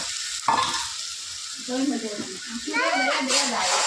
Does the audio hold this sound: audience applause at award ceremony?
no